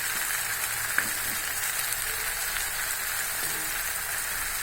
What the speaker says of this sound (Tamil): ஏன்னா இதில் எண்ணெய் பொங்குது. நல்லெண்ணெய் ஊற்றுனாங்க, அதுதான் பொங்குது.